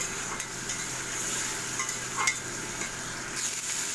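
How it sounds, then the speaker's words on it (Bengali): Potatoes sizzle as they are fried with spice masala in a pan, a steady moderate hiss broken by occasional light spatula scrapes, with no one speaking. "আলুগুলো এই মশলার সাথে আমি কষিয়ে নেব"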